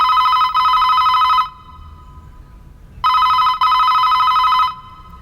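A telephone bell rings in two long bursts separated by a pause of quiet, loud and close, with no voices.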